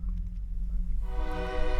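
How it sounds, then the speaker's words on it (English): Approaching train in the Trainwreck video game, a low rumbling engine that gives way to a loud sustained horn blast in the second half, growing nearer. "I hear the train coming. Choo-choo."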